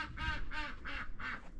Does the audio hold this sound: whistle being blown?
no